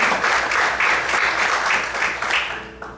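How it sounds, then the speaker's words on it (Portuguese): A church congregation applauds during a morning service, the clapping broad and continuous before tapering off toward the end. "você pode aplaudir o Senhor na manhã de hoje?"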